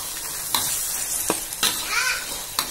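Spring onions being stirred into a spice paste in a hot pan while cooking fish pepes, with soft sizzling under scattered utensil scrapes and taps, close and fairly quiet, no talking.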